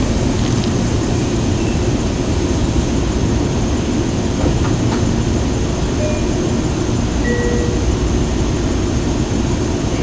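A Long Island Rail Road train on the Port Jefferson Branch roars past close by, a loud, steady wash of rolling wheels and rail noise filling the whole stretch with no talk.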